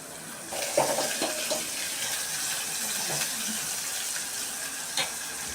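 Onions sauté in a pan while a kara kulambu curry is cooked, making a steady close hiss with occasional stirring clinks and scrapes, and no talking.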